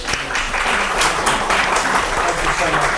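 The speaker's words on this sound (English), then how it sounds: "a round of applause" Audience applause at a memorandum signing ceremony and reception for an Australian China economics, trade and cultural association, a dense, loud wash of clapping from a full room, steady for a few seconds.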